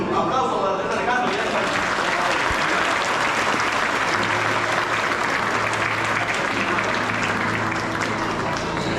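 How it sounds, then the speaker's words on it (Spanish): A congregation applauds at a Catholic baptism ceremony. The clapping is dense and sustained and holds steady at full volume for about nine seconds. "Un aplauso para Andrés Alejandro."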